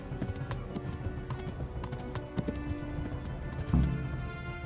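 Hooves clip-clop at a steady gallop on a road in the medieval game Kingdom Come: Deliverance, with the rider passing close by, plus a brief louder burst near the end.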